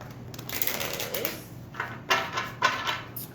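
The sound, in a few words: shuffling a deck of cards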